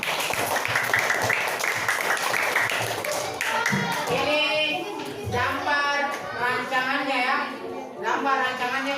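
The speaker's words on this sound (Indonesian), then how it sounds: "Oke, tepuk tangan untuk 3 orang." A classroom of students claps for three classmates, a dense, fairly loud patter of hands that fades as a teacher's voice takes over and continues talking.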